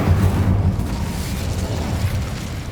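In the Hogwarts Legacy video game, an Incendio fire spell goes off as a loud, dense, low whooshing roar of flame that fills the short moment without any speech.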